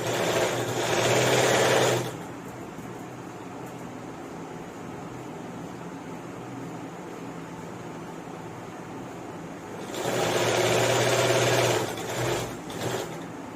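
A sewing machine stitches a dhoti bottom in two loud, close bursts of fast whirring, one at the start and one near the end, with quieter room noise in between.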